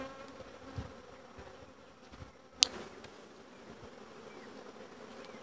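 Honey bees buzz steadily around an open hive during a colony split, a soft continuous insect drone with one sharp brief knock partway through.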